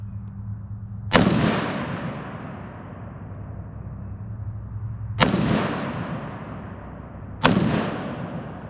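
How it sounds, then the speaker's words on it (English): Three sharp gunshots from a Smith handgun with an unzeroed sight, no cap, each loud crack followed by a decaying outdoor echo, spaced a few seconds apart. "Let me shoot left so I can see what these motherfuckers are hitting."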